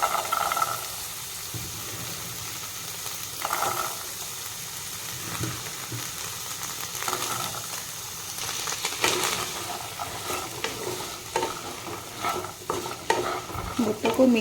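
Boiled chickpeas fry with masala in a pan, sizzling and hissing close up while a spoon stirs and scrapes through them in repeated bursts.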